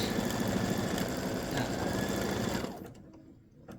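Sewing machine running steadily for edge-to-edge machine quilting, a continuous loud mechanical whir that stops near the end, leaving near silence.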